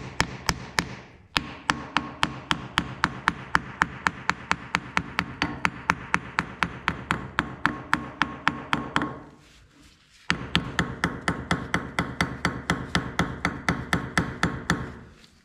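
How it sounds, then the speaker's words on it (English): A hammer lightly taps a hub cap back onto the front spindle of a 1970 Minneapolis Moline U302 tractor, a long rapid series of even metallic taps with one brief pause, close and clear. "Lightly tapping the cap back on"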